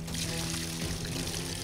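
Water gushes steadily from a pipe into a field being readied for rice transplanting, a close, full pouring rush with a low hum running underneath.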